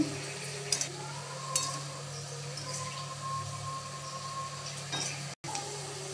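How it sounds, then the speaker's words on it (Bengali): Fuchka puris frying in hot oil in a pan give a soft, steady bubbling sizzle with a few light clinks of a utensil, quiet and close, with no talking. "আর এগুলোকে আমরা হালকা একটু লাল লাল করে ভাজবো, বেশি লাল লাল করবো না"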